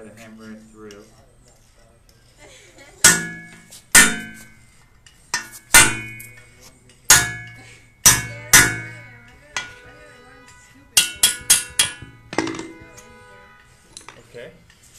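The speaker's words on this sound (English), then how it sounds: "And now we've got to hammer it through." Sharp metallic hammer strikes ring out irregularly, some single and some in quick bursts, each with a short ringing decay, over a quiet background.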